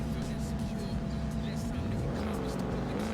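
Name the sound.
car driving nearby in racing video game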